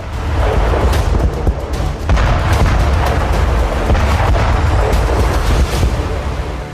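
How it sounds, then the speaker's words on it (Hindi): Missile blasts from Israeli air strikes on Damascus, Syria, a rapid run of loud booming explosions and cracks close together over a continuous heavy rumble, with no talking. "ईरान समर्थित लड़ाकों के ठिकानों पर जबरदस्त मिसाइल अटैक किया गया।"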